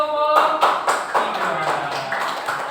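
A class in a classroom claps for a group, brisk uneven applause starting right after a spoken prompt and carrying on loudly with voices underneath.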